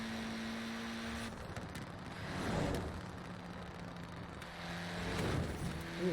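Engine drone from cars in the racing game Forza Horizon 4, a steady mid-level hum with two swells as vehicles seem to pass close by, then fade, with no talking over it.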